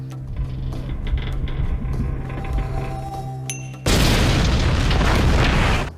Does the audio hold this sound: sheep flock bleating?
no